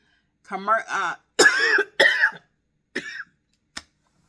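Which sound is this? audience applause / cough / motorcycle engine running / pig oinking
cough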